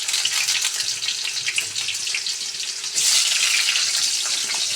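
Pointed gourd (potol) frying in a pan with paneer, sizzling loudly and steadily with a hissy crackle that swells brighter partway through; no talk.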